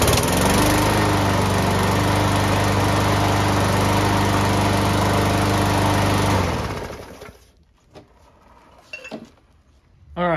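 A Briggs and Stratton lawnmower engine with a new plastic carburetor runs steadily and loudly up close for about seven seconds, then cuts off and winds down, leaving faint clinks and handling noises.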